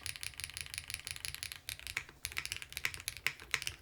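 Rapid typing on an Evo75 mechanical keyboard with an FR4 plate, close and crisp, with dense clacky keystrokes in a fast uneven rhythm and no talking.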